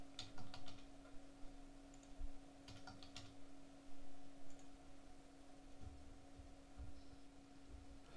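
Keys tapped on a computer keyboard while entering a password to encrypt an Ubuntu 12.04 backup, a few short bursts of clicks over a steady low electrical hum, with no talking.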